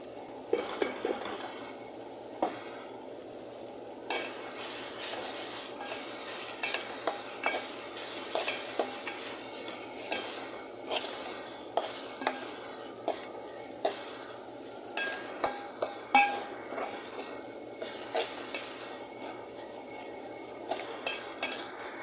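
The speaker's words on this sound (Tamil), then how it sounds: "வறுத்து வச்ச இந்த மிக்ஸ் மசாலா கொச்சுக்கா தூள் மல்லித்தூள் நல்லா இதில் போட்டு அப்படியே பிரட்டிக்கலாம்" Roasted chili powder, coriander powder and mixed masala are stirred and fried in a pan. A soft sizzle runs underneath repeated scraping and clinking strokes of a spoon against the metal, close and fairly quiet.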